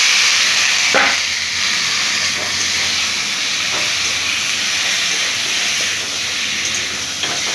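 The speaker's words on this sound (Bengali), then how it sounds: "তারপরে আমি সেদ্ধ করা কচুর জল ঝরানো কচুলতি আমি দিয়ে" Boiled, drained taro stolons tipped into hot oil with cooked spices, giving a steady broadband sizzle and hiss that holds at an even, fairly loud level throughout, with a few faint clinks and no talking.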